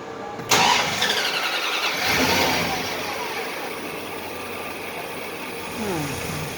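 A 5.7 Hemi with a newly fitted Indy Mod Man intake manifold cranks briefly and catches, then settles into a steady rumbling idle close by, with a slight rev near the end and a person talking.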